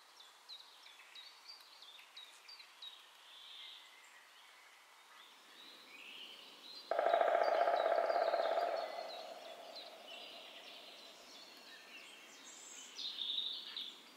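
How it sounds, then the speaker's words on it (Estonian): Birds sing among the trees and bushes of the varied Palivere landscape in Estonia: faint, scattered chirps and tweets in the distance, with a louder, steadier tone swelling briefly midway. "Puud põõsad pakuvad elupaiku erinevatele lindudele."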